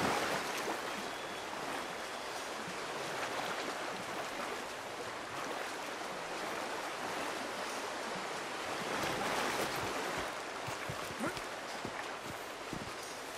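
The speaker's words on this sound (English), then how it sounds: "So apparently Arthur Morgan does not like the water" Water sloshing and splashing around a character wading in Red Dead Redemption 2, a steady broadband wash of surf-like noise that swells and recedes, with a few soft low thumps near the end and no voices.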